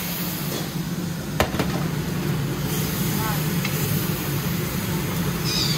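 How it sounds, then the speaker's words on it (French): Couscous sauce of tomato and lamb being stirred in a pot, a soft continuous scraping and bubbling sizzle at moderate loudness with faint background noise. "je vais mélanger"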